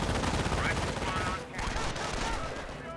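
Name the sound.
MG42 machine gun fire in the video game Company of Heroes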